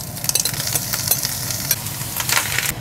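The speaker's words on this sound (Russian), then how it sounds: "Теперь мы к нашим овощам добавляем 400 грамм консервированных шампиньонов." Canned champignon mushrooms added to onions and vegetables fry in a pan with a steady, busy sizzle and soft stirring scrapes, continuous and moderately close, with no talk.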